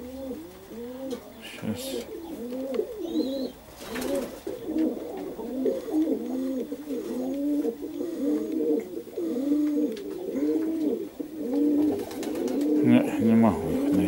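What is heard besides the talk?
pigeons cooing, Perm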